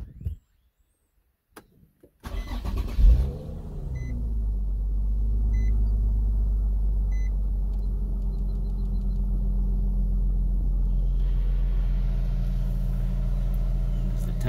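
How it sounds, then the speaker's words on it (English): A 2007 Nissan 350Z engine cranks and catches after a brief quiet moment, revs up, then settles into a steady, deep, close idle that continues evenly to the end. "All right, I'm about to start the vehicle."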